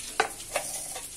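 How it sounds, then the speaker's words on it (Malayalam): Grated coconut roasting in a hot pan for a Kerala pumpkin erissery, a few quick scraping stirs with light sizzling, close and brief, no voices. "തേങ്ങ വറുത്തിട്ടു."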